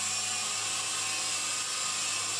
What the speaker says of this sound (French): Mais l'hélico reste dans sa position sans problème.